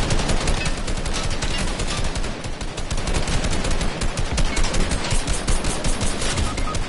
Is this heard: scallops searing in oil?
no